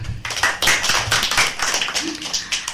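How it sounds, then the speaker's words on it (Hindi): Clapping for a child guest on a children's radio show, a few hands producing a short, uneven patter of claps, close and moderately loud. "तो जी, बहुत सारी तालियां।"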